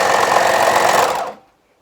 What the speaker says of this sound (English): So I'm up to my notch and I'm just going to sew off where the notch is.